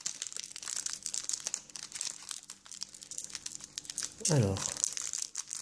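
A Pokémon ex Crystal Guardians booster pack wrapper crinkles and tears close up in quick rustling bursts, with a sharper rip near the end, while a voice speaks briefly.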